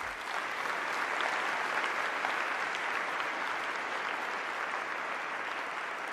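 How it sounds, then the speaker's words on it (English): A large audience at the opening ceremony of the Seventh GEF Assembly breaks into a big, dense round of applause, a steady, even wash of many hands clapping that holds at full strength throughout. "Let's give them all a big round of applause."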